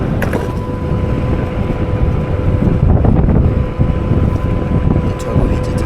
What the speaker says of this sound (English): think I'm going into the wind.